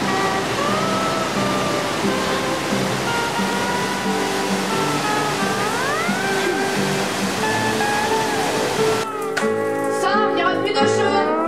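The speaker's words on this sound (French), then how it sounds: "Tahiti Shore 5 vous emmène au cœur de la cascade pour un moment de fraîcheur intense." A waterfall cascades in a steady, dense roar of rushing water, with tonal music layered over it throughout. The texture shifts abruptly near the end.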